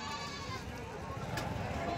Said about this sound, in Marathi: तुम्हाला दोंडाच्याचा बकरी बाजार दाखवतोय